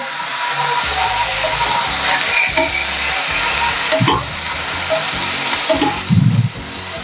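Mutton, about 300 grams, dropped into a pan of frying onion, garlic and green chillies, a steady close sizzle with clattering knocks and a louder burst near the end, no voices.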